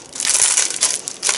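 A green plastic packet being torn and crumpled open by hand, a loud, close, continuous crinkling and crushing with a few sharper surges.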